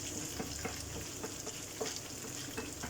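Minced meat fries steadily in a single pan for a potato and pea stew, a constant close sizzle broken by occasional stirring scrapes, with no voices.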